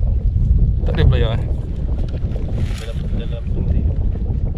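Strong wind buffets an inflatable fishing boat out at sea, a loud continuous roar of wind noise on the microphone with water and hull sounds throughout, and a voice briefly heard.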